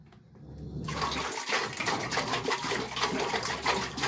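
Water gushes steadily from a tap, filling a container for a dog. It starts abruptly and stays close and continuous, with no talking.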